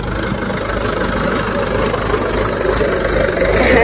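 A farm tractor used for wheat sowing idles nearby, a loud, steady low rumble with a faint knocking pulse that stays constant and grows slightly louder toward the end, with no talking.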